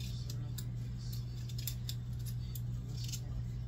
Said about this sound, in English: Just take this peel off with my peeler.